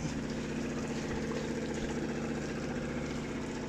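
A boat engine runs steadily during a test, a continuous mid-low droning hum with a constant buzzing tone, unchanging in level and heard alone.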